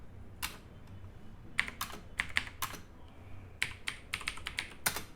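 Typing on a computer keyboard while entering text in SketchUp, quiet and close, with irregular clusters of sharp clicking keystrokes separated by short pauses.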